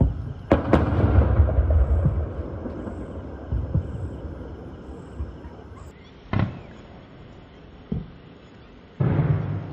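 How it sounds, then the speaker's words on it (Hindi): A missile blast in Udhampur's Dibber area, Kashmir, heard as a loud booming rumble at the start that fades, followed by several sharp, distant cracks and thuds spaced a second or two apart. "हाँ मिसाइल फूट जाए।"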